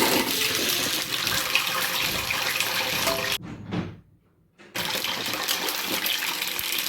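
Indian gooseberries (amla) fry in oil in a pan with a loud, continuous sizzling hiss, which cuts out briefly for about a second before resuming.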